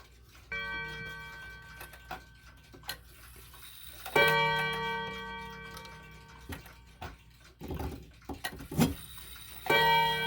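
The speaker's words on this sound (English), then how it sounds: "that was the chime side spring slipping" Clock chime mechanism on a repaired clock, with the chime side spring slipping: a tonal metallic ringing with several clear onsets and sustained harmonic tones over faint steady ticking, near and moderately loud, no talk.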